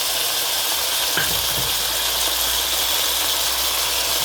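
Crushed ginger and garlic are dropped into a hot pan for chicken curry and give a loud, steady sizzle. The frying continues evenly throughout, with one brief clatter near the start.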